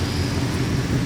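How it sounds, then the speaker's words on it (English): A 2024 Mustang GT idles steadily in a lean-running condition, a continuous low engine rumble with a faint hiss over the top and no voices. "the car is running extremely lean for whatever reason"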